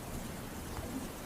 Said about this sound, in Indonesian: hujan yang turun sejak tadi mulai menderas, beserta suara petir yang semakin keras